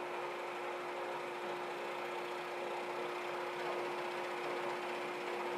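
A workshop vacuum runs in a steady, even drone with a constant hum, faint and unchanging throughout with no voices.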